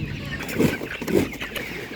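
Chickens clucking from cages at a livestock market, where young laying hens are sold; a couple of short clucks stand out near and moderately loud over a busy, murmuring background.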